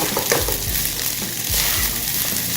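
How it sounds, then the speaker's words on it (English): Fried rice stir-fried in a wok, tossed and pressed among the protein: loud, continuous sizzling and frying with rhythmic scraping and stirring strokes, close up and without talk. "I'm going to have the rice dancing in the wok like it should"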